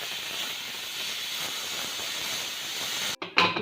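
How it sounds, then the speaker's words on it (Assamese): A pressure cooker cooking veg pulao releases a loud, continuous rushing hiss of steam that stops abruptly near the end, followed by a short burst of noise. "এতিয়া কুকাৰৰ ঢাকনখন মই মাৰি দিছোঁ আৰু 2টা হুইচেল দি দিম"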